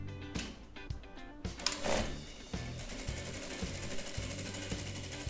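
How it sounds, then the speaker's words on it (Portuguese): A sewing machine runs a straight center seam through a canvas tote bag, dividing it into two pockets, with bursts of fast mechanical stitching and handling clatter close up. "agora nós vamos passar só a costura aqui ao centro para delimitar os dois bolsos"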